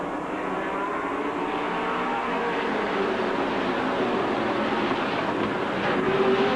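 A 16-car field of race cars roars toward the green flag for a 100-lap feature, a dense, continuous wash of engine noise that is loud and steady throughout with no voices on top.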